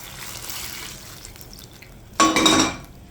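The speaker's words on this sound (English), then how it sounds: "Just gonna pour the hot water, the boiling water, on the breadfruit." Boiling water pours briefly and splashes over breadfruit in a cooking pot, a short close burst after quieter kitchen clatter.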